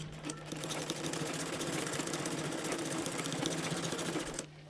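A sewing machine stitching pleats onto fabric runs at a fast, even mechanical whir with a constant low drone, loud and close, stopping abruptly near the end.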